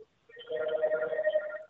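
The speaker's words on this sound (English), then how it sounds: "the phones are like ringing off the hook here" A telephone rings once in a film festival office, a short electronic trill with a steady tonal buzz that lasts just over a second, clear and close in a quiet room.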